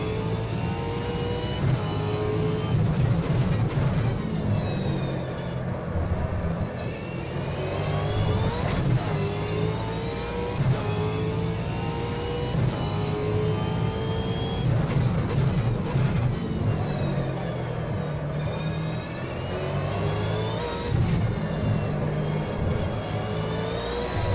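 A V8 Supercar in the Automobilista racing game at Winton, its mid-pitched engine droning and revving continuously for the whole stretch, with rising and falling pitch sweeps as the throttle is fed in gently while the car slides.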